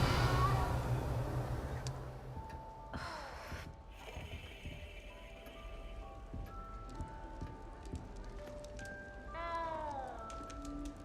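Cat meows in the video game Hogwarts Legacy, several short tonal calls scattered over a steady game ambience and music bed, moderately near, with a longer rising meow near the end.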